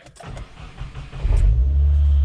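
A 2019 Subaru WRX Limited running E-85 on a Stage 3+ tune cranks and catches, then its engine roars into a loud, sustained rev that builds and holds close by.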